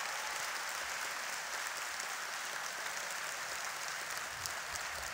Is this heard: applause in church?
yes